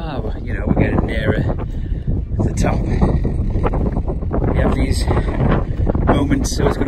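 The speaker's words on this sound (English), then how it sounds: "so it's got a bit windy" Strong gusting wind buffets the microphone on a mountain ridge hike up Snowdon, a loud continuous roar, with a voice speaking underneath.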